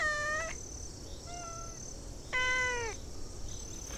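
A cat meows three times, close and clear, with the first and last calls long and drawn out and the middle one shorter and fainter, over a steady background hiss.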